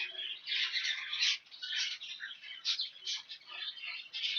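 A hen calls continuously in a busy, chattering stream of high squawks and chirps with no talking.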